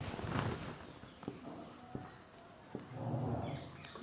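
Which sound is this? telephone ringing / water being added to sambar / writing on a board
writing on a board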